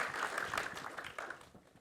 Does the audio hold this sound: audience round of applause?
yes